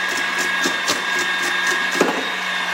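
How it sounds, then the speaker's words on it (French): An electric mixer whips egg whites with sugar for a pavlova, a steady machine whir with faint tonal hum running throughout, close and continuous with light rhythmic beater pulses. "Et là, on va commencer à serrer les blancs."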